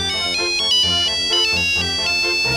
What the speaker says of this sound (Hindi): ये फोन मेरा पीछा नहीं छोड़ेगा।